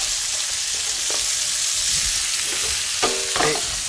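Sea bass fillets frying in butter in a pan give a loud, even, close sizzle, with a couple of soft knocks near the end as the fish is turned.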